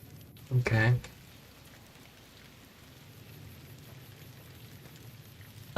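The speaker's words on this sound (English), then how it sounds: "I think this DLC is the only time it rains in Fallout New Vegas." Rain in the video game Fallout New Vegas, Honest Hearts DLC, a steady hiss of falling rain and drops pattering on surfaces throughout, with a short louder game sound near the start.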